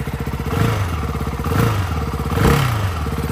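A Ducati 698 Mono single-cylinder motorcycle engine idles with a steady thumping pulse and is revved sharply three times in a row, loud and close.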